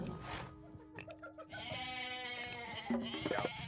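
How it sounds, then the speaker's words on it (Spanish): A sheep bleats in the video game Age of Mythology Retold, a few wavering, nasal cries up close, followed by layered game sound effects and a faint music bed. "Se estaba escapando, es una oveja rebelde."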